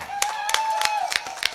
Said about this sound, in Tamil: ஒரு கைதட்டு கொடுக்கலாம்